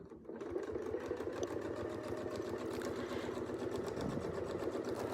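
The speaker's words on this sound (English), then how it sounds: "and then we'll start sewing." A Westalee sewing machine stitches a curve with a fast, even mechanical whir and a rapid needle rhythm. It starts just after a brief quiet moment, holds steady and close throughout, and no one speaks.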